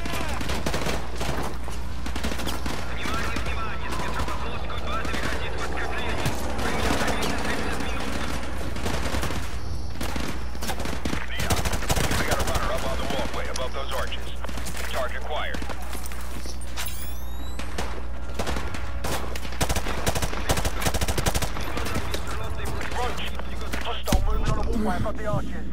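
Call of Duty Modern Warfare 2 Remastered gunfire cracks in dense, irregular bursts over a constant low battlefield rumble, loud and ongoing for the whole stretch, with radio chatter heard intermittently.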